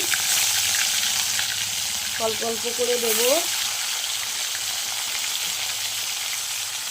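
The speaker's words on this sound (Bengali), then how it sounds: "দিয়ে ভেজে নেব, লাল লাল করে ভেজে নেব।" Hot oil sizzles and crackles steadily throughout as parshe fish fries, while a voice speaks briefly over it.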